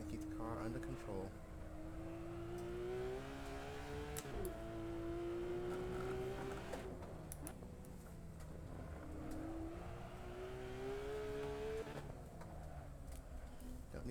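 A race car in the Assetto Corsa racing game, its engine whining in a strained rising and falling tone through gear changes and hard braking, steady and loud, with someone talking over it throughout.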